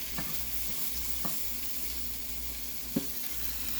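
A breakfast wrap cooking in a pan makes a soft, even sizzle with a few light clicks and taps of a utensil against the pan.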